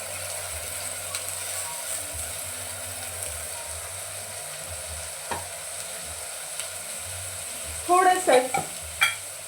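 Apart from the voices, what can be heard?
sprouted moth beans (matki) frying in hot oil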